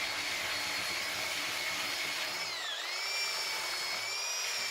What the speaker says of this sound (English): The belt sander after that with an aggressive grit takes the inlay down further.